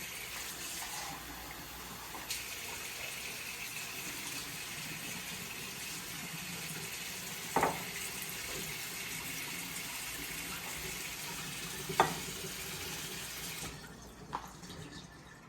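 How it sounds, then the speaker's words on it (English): Three-quarters of a cup of warm water streams from a tap or is poured into a bowl of combined dry ingredients for a dough, a steady close gush with a couple of small clinks and no talk. "we now will add 3/4 cup of warm water"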